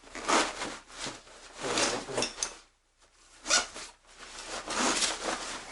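Several quick zipper pulls in bursts on a backpack's horseshoe zipper, close up, with a short pause in the middle before the zipping resumes.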